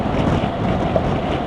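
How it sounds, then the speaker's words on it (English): Strong crosswind buffets the rider of a 2018 BMW R1200GS Adventure or R1200RT motorcycle on a cloudy, wet road, a steady loud roar of wind rush mixed with engine drone throughout. "we've got quite a strong crosswind as well"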